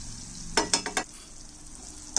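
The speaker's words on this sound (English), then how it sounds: "Add the capsicum. Let this fry for about a minute." Capsicum frying in a pan with soya sauce, a soft steady sizzle broken by several sharp stirring scrapes in quick succession and one more near the end, with no talking.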